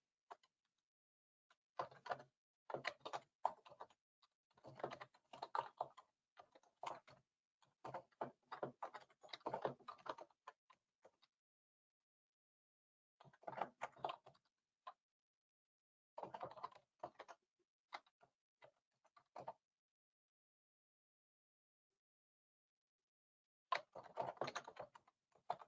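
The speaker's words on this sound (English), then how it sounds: "I'm going to go ahead and type in a little more description" Keys clatter on a computer keyboard in quiet, close bursts of rapid typing, separated by silent pauses across the stretch.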